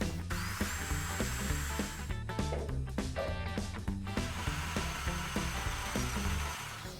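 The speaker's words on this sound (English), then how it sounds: "Eighth-inch drill bit." A power drill with an eighth-inch bit whirs continuously, drilling a spot weld on a 1962 Dodge D100 tailgate, with grinding and ratcheting noises that stay loud and close throughout.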